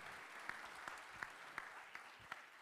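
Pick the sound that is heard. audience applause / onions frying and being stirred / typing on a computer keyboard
audience applause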